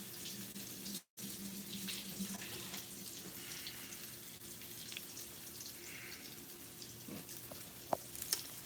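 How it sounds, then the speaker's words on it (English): Cold water runs steadily from a kitchen tap into a sink, a continuous close hiss and splash with one brief cutoff near the start and a few small clinks later, no talk. "You want to put cold water on it?"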